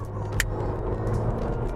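A 2017 Honda Civic Si with a turbocharged engine pulls at full throttle in third gear from around 3,000 RPM. The steady, close engine drone carries a single sharp finger snap near the start.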